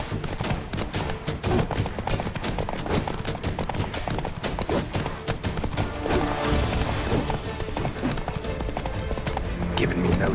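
Roach, a horse in The Witcher 3: Wild Hunt (Blood and Wine), gallops with steady, dense clip-clop hoofbeats under game music and effects, with scattered combat sounds alongside.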